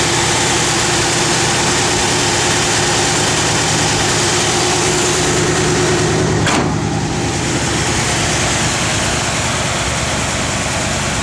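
A 1964 Buick Riviera engine idles close by with a loud, steady, even rumble that barely changes throughout, heard alone with no voices.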